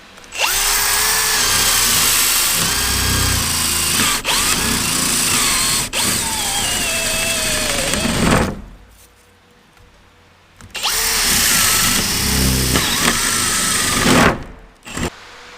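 A drill press bores holes while the machine comes loose and falls apart, with the bit grabbing as it breaks through. A loud, steady whining roar runs for about eight seconds, pauses briefly, then returns for a second shorter burst.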